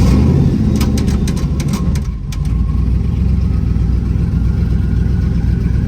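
Loud car engine idling with a steady, deep rumble, joined by a brief burst of higher rattling near the start, then settling into a continuous close-up drone with no talking.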